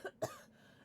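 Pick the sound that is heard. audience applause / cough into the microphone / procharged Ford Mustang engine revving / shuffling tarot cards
cough into the microphone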